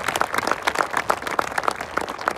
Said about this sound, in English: Give a strong clap to the Lord Jesus